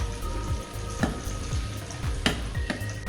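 Ginger-garlic paste sizzles and fries in hot oil in a pan, a steady crackling hiss broken by several sharp scrapes and stirs of a spoon, close and with no talking.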